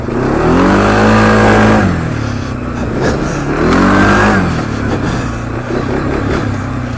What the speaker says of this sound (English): Definitely an easy quad to drive with the EPS.